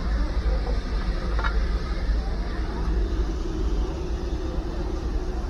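The engine of the Darjeeling toy train rumbles with a continuous low, heavy drone and a faint hiss, steady and close, with a brief higher metallic note partway through.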